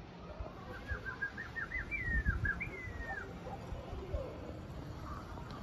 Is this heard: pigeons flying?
yes